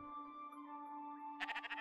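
A sheep bleats in the video game Spiritfarer, a short wavering cry that comes in near the end over a steady tonal game background, fairly quiet and with no voices.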